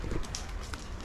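A goat's hooves trot quickly over the ground in a steady, fairly close clip-clop rhythm, lasting about a second with no talk over it.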